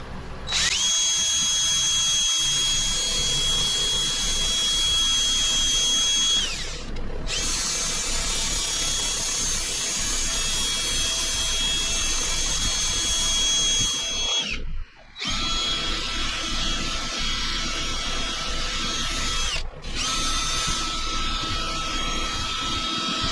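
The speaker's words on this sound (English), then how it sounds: "let's see if we can get this sanded up a little bit" Power sander working a cedar crotch log: a loud, steady high whine with a constant tone that runs for long stretches, broken by a few brief pauses, close up with no talking.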